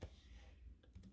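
A few light clicks on a computer keyboard as a router's MAC address is typed in, faint and close, in a quiet room with no talk.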